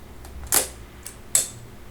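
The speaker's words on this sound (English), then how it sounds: "So, if I press that, it will release the shutter." Two crisp mechanical clicks from the shutter release of a Voigtlander Vito II folding camera, each a sharp snap followed by a short fainter tick, close and alone in a quiet room.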